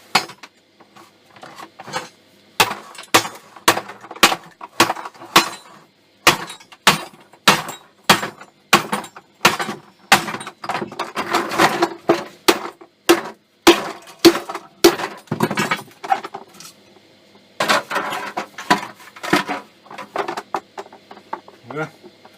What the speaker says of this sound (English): hammer it off.